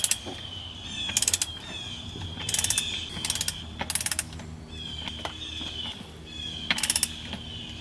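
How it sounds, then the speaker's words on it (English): A torque wrench ratcheting as it tightens a fitting on a Duramax diesel lift pump, quick bursts of close metallic clicks separated by short pauses, with faint background hum. "We're going to torque that to 40 pounds, 40 foot-pounds. Torque wrench set at 40 pounds."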